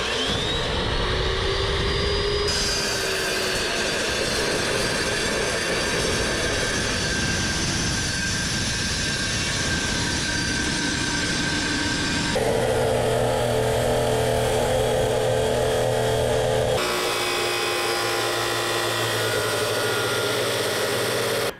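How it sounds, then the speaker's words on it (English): A power tool cuts through thick steel while building a backyard bunker shaft. A loud, continuous grinding roar carries a shifting high whine that changes pitch in several distinct stages. "To build the entry and exit shafts for the bumper, we have to cut a lot of metal, and thick metal"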